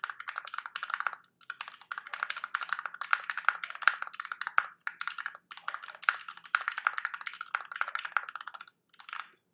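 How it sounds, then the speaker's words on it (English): Steady bursts of fast typing on a Noxary X60 mechanical keyboard fitted with lubed Zealios switches, crisp close clacks in dense runs with a few short pauses, no voices. "So I love the sound of this keyboard."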